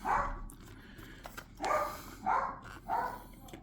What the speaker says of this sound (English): And we've got a barking dog.